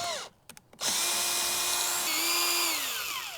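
A power drill backs screws out of a window sash, starting with a few short clicking bursts and then settling into a loud, close, steady whine whose pitch dips briefly near the end.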